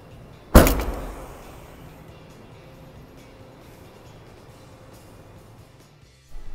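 Rear hatch of a 2011 GMC Terrain SLE-2 SUV swung shut: a single loud, close thump with a short rumbling decay, followed by quiet outdoor background.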